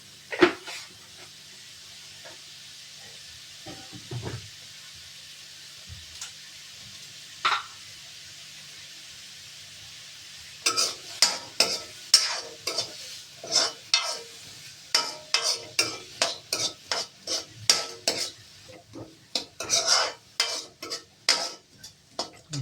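Onions with a pinch of salt frying in a pan for palak paneer: a quiet sizzle with a few scattered knocks at first, then rapid, close scraping and stirring strokes for the second half.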